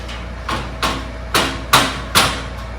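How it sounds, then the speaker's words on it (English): A dead blow hammer strikes a Member's Mark 6-shelf steel storage rack, model 016055-1, during assembly. Five loud, close thuds come at uneven intervals, each dying away quickly. "This one's going to take a tad bit of that dead blow hammer as well."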